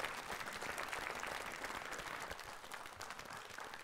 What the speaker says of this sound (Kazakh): Кеттік ендеше шапалақтарыңызбен.